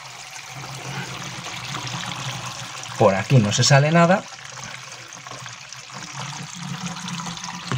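Water poured into a kitchen sink and draining through the siphon, a short gushing burst with gurgling lasting about a second, set between stretches of someone speaking close by.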